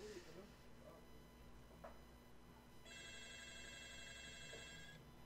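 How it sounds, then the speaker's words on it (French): A mobile phone rings indoors with a steady, repeating electronic tone that comes in partway through and carries on for a couple of seconds. A person speaks quietly before it. "Bon, mon téléphone qui sonne."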